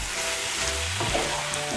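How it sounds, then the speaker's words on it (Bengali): Hot water poured into cabbage frying in a pan, a loud, dense sizzle and hiss throughout, close up, with a low bubbling gurgle as the liquid hits the hot oil. "আমি এর মধ্যে 1 কাপ গরম জল দিচ্ছি।"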